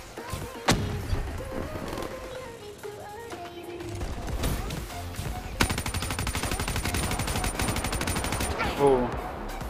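Gunfire from Black Ops 3 on PS4: scattered single shots give way to a sustained rapid automatic burst, loud and close, with thuds and game effects mixed in and occasional voice underneath.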